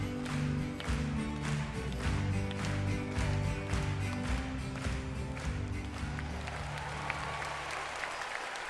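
Audience applause at a concert, a dense sustained clapping from a large crowd that stays loud for several seconds before thinning out toward the end.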